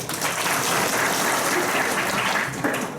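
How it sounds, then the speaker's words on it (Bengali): A crowd applauds steadily at a public meeting in Rangpur, Bangladesh, dense clapping holding at a constant level throughout, loud and close. "এটাকে মনে একটা তালি দেওয়া উচিত ছিল"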